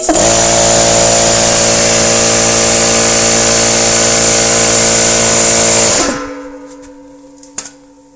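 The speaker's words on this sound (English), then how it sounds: "central pneumatic air compressor, which I believe came from Harbor Freight, will not stay running" A Harbor Freight Central Pneumatic 21-gallon 2.5 HP air compressor, kept in a damp outdoor workshop, runs with a loud steady motor drone and hum for six seconds, then abruptly cuts out, leaving a faint fading rattle and a small clunk.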